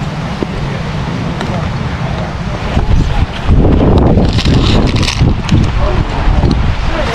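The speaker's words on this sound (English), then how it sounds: "I don't know if you can hear me over the wind" Heavy, steady wind roar buffets the microphone while riding a Suzuki GS750 motorcycle through English countryside, growing louder partway through, with engine and road rumble blended underneath.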